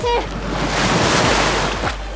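Sea waves roll and wash loudly along a seashore, a broad continuous surge of surf mixed with wind buffeting the microphone, with brief voices at the start.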